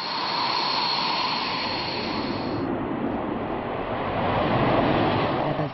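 A continuous jet roar from fighter aircraft flying over Cambrai air base during the NATO Tiger Meet exercise, a loud steady rumble with a high whine that fades partway through.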